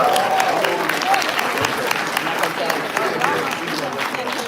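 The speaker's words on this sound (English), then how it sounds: "a round of applause for Karamu's own Benita Jenkins." Steady applause from an event audience fills the room, dense and continuous, with crowd murmur and a voice talking underneath.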